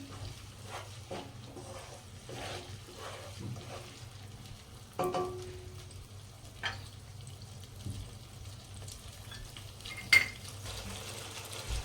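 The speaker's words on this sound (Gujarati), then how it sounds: "હવે આપણે ટામેટાની ગ્રેવી નાખીશું અંદર ટામેટાની ગ્રેવીને થોડી વાર થવા દઈશું" Tomato gravy hitting a pan of frying garlic and green chili paste, a low sizzle with occasional stirring scrapes and a few sharp utensil knocks, quiet and close.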